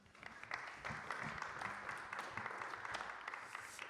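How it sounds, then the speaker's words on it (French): A conference audience at a talk on building a cycling plan applauds the speakers, a fairly quiet but continuous spatter of many clapping hands in a room, sustained throughout. "On peut les applaudir à nouveau."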